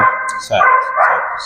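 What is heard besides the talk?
small dog barking in the background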